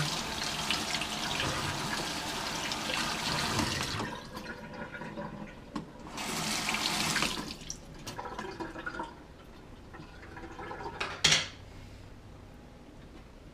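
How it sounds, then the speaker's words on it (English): Running tap water splashes over a Fluval 206 filter cover being rinsed, two bursts of hissing flow separated by quieter dripping and handling clatter, close by with no talk. "We'll just give this cover a rinse on the other side."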